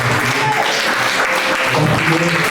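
Church congregation applauding steadily together in a hall, a dense continuous clapping with voices mixed in.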